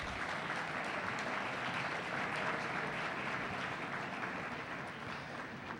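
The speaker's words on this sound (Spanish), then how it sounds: "Creo que amerita un nuevo aplauso para la doctora Luz Amalia" An audience at an international constitutional law congress applauds a conference speaker, a fairly faint, steady wash of clapping that lasts several seconds without a break and tapers slightly at the end.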